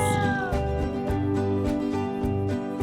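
A cat meows over a backdrop of steady, bouncy music with a regular beat, the meow short and bright near the start and the music continuing underneath.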